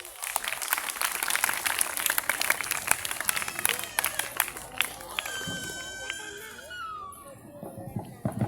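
Audience at a Children's Day celebration claps steadily for a guest, a dense run of sharp handclaps with crowd noise and a voice rising near the end.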